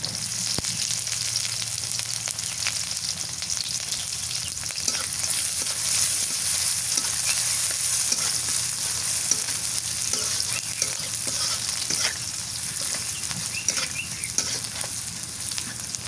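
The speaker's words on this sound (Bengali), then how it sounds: "পেঁয়াজ মরিচ ভাজা হয়ে গেছে" Chopped onion and sliced green chili fry in hot oil in a pan for a home fish curry, giving a steady, close sizzle with occasional scraping stirs and no talking.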